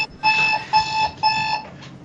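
An alarm clock rings in three sharp electronic bursts with short gaps between them, a steady high-pitched tone that is loud and close, followed by a brief fainter chirp at the end.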